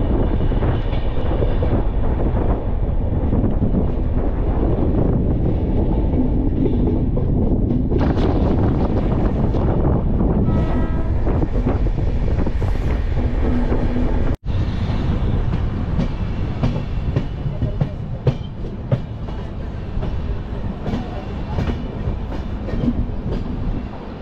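An AC double decker train with new coaches running on rails, a steady loud rumble and rattle with wind noise throughout, no talk.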